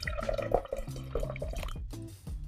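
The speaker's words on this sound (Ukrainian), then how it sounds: "Заливаємо крота якісним свіже вигнаним спиртом." Freshly distilled homemade spirit is poured into a glass jar, a short, close trickle and splash of liquid lasting a couple of seconds with no voices.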